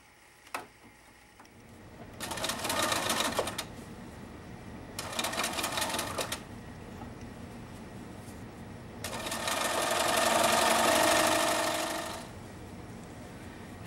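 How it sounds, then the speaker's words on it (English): A sewing machine zigzag-stitches elastic onto fabric, running in two short bursts and then one longer steady run, close by, with quiet pauses between. "I'm going to be zigzagging back and forth over the top of the elastic onto the fabric. I'm back stitching, just like always, and then I'm going to pull and sew."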